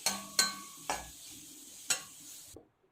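Onions sautéing in oil in a kadai give a steady soft sizzle broken by a few sharp scraping stirs of a spoon against the pan, close and fairly quiet, then the sound cuts to silence.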